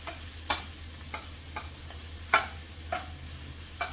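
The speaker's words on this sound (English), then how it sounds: "We're just gonna stir it for a while." Food stirred in a frying pan, a faint low hiss with about seven sharp, separate scrapes or taps of the utensil spaced roughly half a second apart, quiet and without talk.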